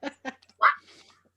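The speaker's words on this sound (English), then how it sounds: "I want a dog that barks like that." A dog gives a few short, sharp barks, two quick yaps followed by a louder one, close and clear, with brief quiet gaps between them.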